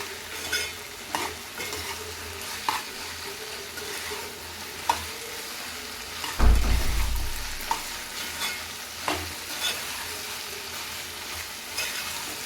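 Ginger garlic paste fries in a pan with a soft steady sizzle, while a spoon scrapes and taps the pan at intervals and one louder stir bursts out midway, close and without speech.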